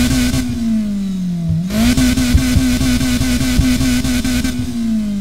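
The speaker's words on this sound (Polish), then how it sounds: "Odgłos wydechu." Car exhaust in Need for Speed Heat revving loudly, the engine note dipping and climbing again, with rapid pops and crackles riding over the steady, close-up roar.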